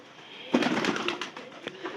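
Pigeons coo inside a pigeon farm, a soft murmuring cluster of calls starting about halfway through and continuing with a few brief louder notes near the end.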